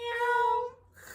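A person imitates a cat's meow with a single drawn-out, tonal, cat-like cry that fades after about two-thirds of a second.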